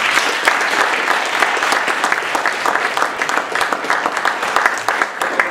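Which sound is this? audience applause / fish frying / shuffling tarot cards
audience applause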